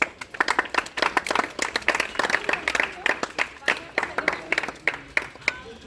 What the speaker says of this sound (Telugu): ఆనందంగా క్లాప్స్ పడుతుంది.